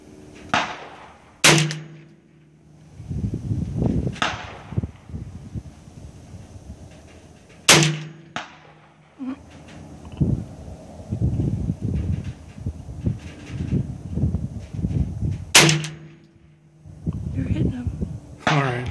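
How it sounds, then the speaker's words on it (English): A Ruger 10/22 rifle fires three sharp, well-spaced shots outdoors, with people talking between the shots. "That was a Ruger 1022 shooting."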